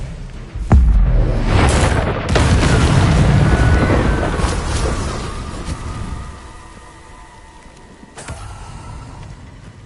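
Expelliarmus is cast in Hogwarts Legacy: a sharp magical blast hits, then a loud rushing whoosh swells and fades, followed by a ringing shimmer and a final crackling snap.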